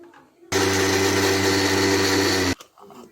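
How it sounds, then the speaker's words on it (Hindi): A kitchen blender whirs at full speed for about two seconds, blending green chutney with mayonnaise, then stops abruptly; a loud, steady motor drone with quiet moments before and after. "इसको ब्लेंड करेंगे फिर।"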